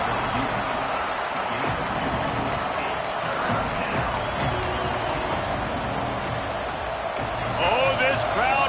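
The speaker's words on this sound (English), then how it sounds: "this crowd wants it" Stadium crowd at an Auburn versus Florida college football video game, a steady roar of many voices filling the background beneath a commentator talking over it, swelling louder near the end.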